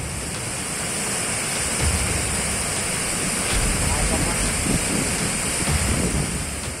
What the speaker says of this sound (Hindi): नदी का ये डरावना रूप दक्षिण में तमिलनाडु के शहर कोयम्बटूर का है।